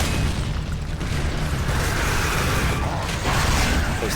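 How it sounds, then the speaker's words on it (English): Torpedo blast in the video game Gears of War Judgment, a loud sustained rumbling boom with crackling mechanical debris and creaks over deep low-end roar that surges again near the end. "Those Therons can be cheeky with their torpedoes."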